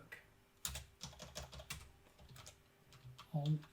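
Fingers tap quickly on a computer keyboard close by, irregular bursts of keystrokes with short pauses and a heavier thump near the end, quiet overall and free of talk.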